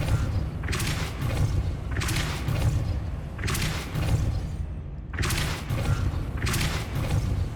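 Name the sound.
Depulso spell cast in Hogwarts Legacy video game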